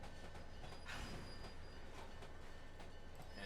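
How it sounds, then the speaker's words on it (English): Brakes come on for a Union Pacific SD40-2 locomotive in a train simulator game on Sherman Hill, heard as a steady rail rumble with faint metallic squeal and hiss, continuous and fairly near with no talking over it. "I'm going to hit the brakes on the actual train."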